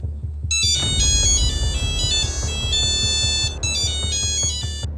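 A mobile phone rings with a loud, bright electronic ringtone melody, playing in repeated bursts with a brief gap midway, over a low background rumble.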